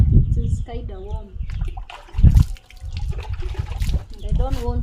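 Water splashes and trickles while a dog is bathed in slightly warm water, uneven pouring sounds coming in bursts, close by and partly masked by a person talking throughout.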